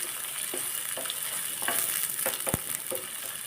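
Chopped onion frying in hot oil with garlic-ginger paste while cooking green peas chutney, a constant close sizzle broken by occasional scrapes and stirring knocks of a utensil in the pan.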